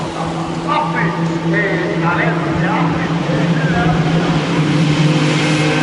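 WTCC touring race cars roll out of the Parabolica at Monza on a rolling start, a steady droning engine note building under continuous commentary from a broadcaster.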